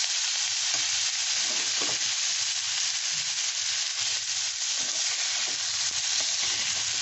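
Chicken masala with ginger paste fries in a pan for chicken bharta, giving an even, unbroken sizzling hiss that stays close and steady throughout, with faint stirring underneath.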